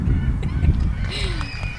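A flock of seagulls calls outdoors, with a few harsh, rising squawks standing out near the end over a constant low rumble of wind or traffic.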